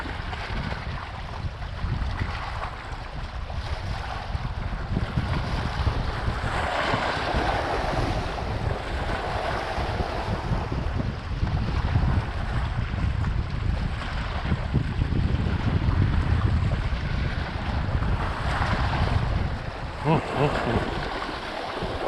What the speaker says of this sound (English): As you can see, this water here is a little choppy.